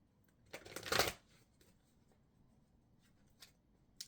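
A deck of oracle cards is shuffled close up in one brisk riffling burst lasting about half a second, followed by quiet and a faint card tap.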